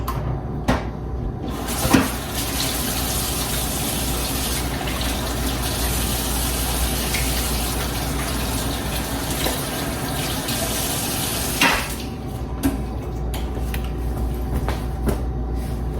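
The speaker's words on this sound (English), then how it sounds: "I'm gonna walk over to the sink, give my hands a good wash." Tap water runs steadily into a kitchen sink while hands are washed beneath it, a continuous broadband rush lasting most of the stretch, with brief knocks and clatters at the start and end and no talking.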